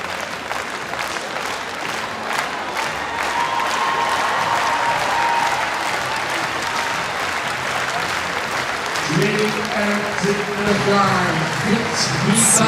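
An audience at a German stallion licensing presentation claps steadily for a studbook stallion, a dense, even wash of applause lasting the whole stretch, with a voice speaking over the last few seconds.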